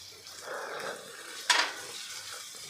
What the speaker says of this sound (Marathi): आता सगळं आपल्याला मिक्स करून घ्यायचं आहे